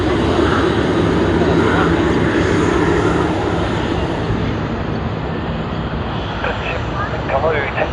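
A steady, loud jet engine roar from an A380 airliner at Sydney Airport fills the whole stretch, with no clear voice over it.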